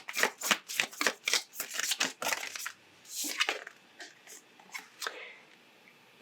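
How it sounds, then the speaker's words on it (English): Oracle cards being shuffled and pulled from a deck, a rapid run of close, crisp riffling flutters that thins into a few separate slaps and slides, with no voice over it. "let's pull a couple of oracle cards and see what else they might want to add."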